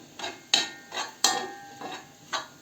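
A spoon scrapes and knocks rhythmically against a pot of green borscht, repeated strokes about every half second, close up with no talking.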